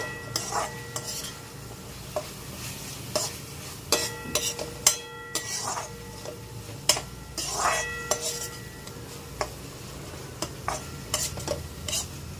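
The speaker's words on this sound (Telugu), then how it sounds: "అల్లం వెల్లుల్లి పేస్ట్ పచ్చివాసన పోయేదాకా వేయించుకోండి." Ginger garlic paste with onions being stirred and fried in a pan for chicken fry, with frequent metal spoon clinks and scrapes over a moderate sizzle.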